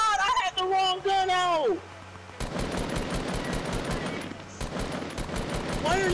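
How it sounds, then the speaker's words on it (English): Fast automatic gunfire rattles in the video game Fortnite, a sustained loud burst of shots after a player's excited speech, continuing for several seconds. "Why are you shooting me?"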